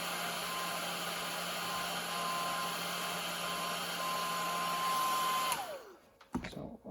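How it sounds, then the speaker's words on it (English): A small Barbie hair dryer blows a steady, loud whir for several seconds while heating a decal being applied to a 1982 Honda CB900F, then switches off and winds down, leaving faint handling noises. "My Barbie dryer is working okay."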